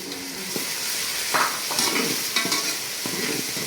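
Chopped tomatoes hit a hot pan for a black zucchini (tori) stew, sizzling and frying steadily while a spoon stirs with repeated scraping strokes, close and fairly loud.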